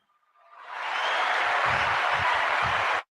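A canned applause sound effect swells quickly into a steady wash of crowd clapping, holds for a couple of seconds and cuts off sharply.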